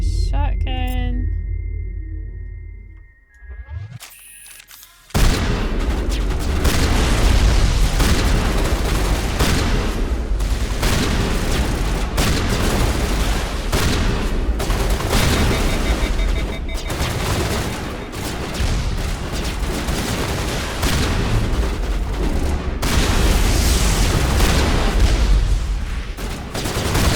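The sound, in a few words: shotgun fire in the video game Mass Effect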